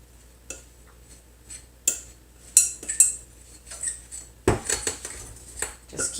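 Homemade bagel dough gets mixed in a bowl, a utensil clinking and scraping against the bowl in irregular bursts, close and fairly quiet with no talking.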